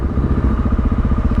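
A Honda XR650L motorcycle engine runs during a ride, with a loud, steady, low rumbling thump close up and no talking.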